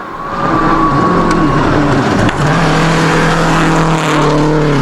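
Solberg's rally car tears through a dusty gravel stage at the 2006 WRC Rally Mexico. A loud, close engine roar rises and falls through gear changes, with one brief dip mid-run, and no speech.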